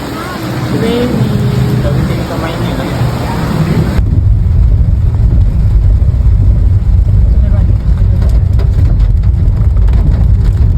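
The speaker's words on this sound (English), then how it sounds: "Hujan. Raining." Rain falls at a beachside resort, a dense, loud, steady hiss with low rumble that holds throughout, and voices are partly mixed in at the start.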